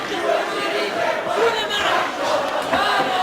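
A cheering crowd at a Cage Warriors MMA event, a steady roar of shouting voices that swells slightly in places, continuous and fairly loud.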